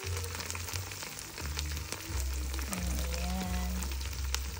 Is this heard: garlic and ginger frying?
yes